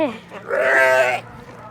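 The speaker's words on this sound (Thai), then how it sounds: "แกะร้องเนี่ยเนี่ยดูดิโหจ้องกันแล้วเนี่ย" A sheep gives one loud, close, wavering bleat lasting about a second, with quieter animal sounds just before it.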